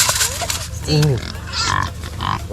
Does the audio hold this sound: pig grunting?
yes